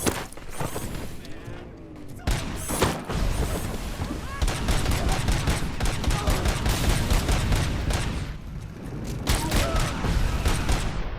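Rapid bursts of pump shotgun fire in the video game RoboCop Rogue City, loud repeated blasts with echoing booms and clattering mechanisms, firing in dense volleys with brief lulls and a voice talking over parts.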